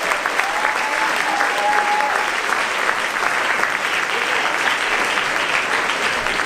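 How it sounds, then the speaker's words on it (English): A theater audience at a mentalist's stage show gives loud, steady, continuous applause throughout, with a faint whistle near the start. "Give it all a tremendous round of your applause."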